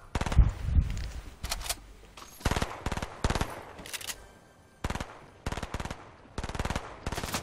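Rapid automatic gunfire in the video game Fortnite comes in several loud bursts of close shots separated by short pauses, with no talking.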